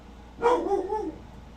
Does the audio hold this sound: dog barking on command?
yes